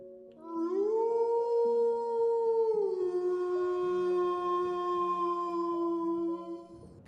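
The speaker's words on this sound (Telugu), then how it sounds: "దూరంగా నక్కల అరుపులు వినిపిస్తూ ఉంటాయి." Long, rising and falling howls from several jackals overlap and sustain, sounding somewhat distant, with no talking.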